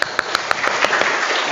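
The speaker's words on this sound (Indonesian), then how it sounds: "Tepuk tangan dulu buat Nyonya si Tumorang, si Ringo." Scattered, uneven clapping from a church congregation during an Advent service, a few sharp claps standing out early before blending into a thin, close patter of applause.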